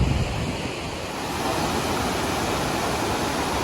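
Waterfall of the Reedy River in downtown Greenville, a steady broadband rush of falling water with a little wind noise on the microphone, continuous and fairly close throughout.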